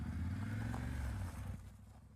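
A motorcycle rolls up on arrival at home, its engine a steady, fairly close low rumble that holds for over a second before easing off and fading as the bike slows to a stop.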